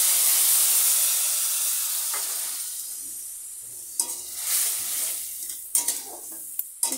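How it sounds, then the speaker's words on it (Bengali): Water poured into hot oil with frying spices, while onions cook for a poppy seed paste pabda fish curry, sends up a loud steady hiss that slowly fades, followed by a few sharp clatters of stirring near the end. "জল দিয়ে দিচ্ছি।"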